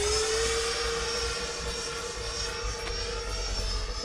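RC model jet plane flying at half throttle, a steady whining turbine-like drone with a clear tone rising slightly in pitch, fairly distant and heard alone.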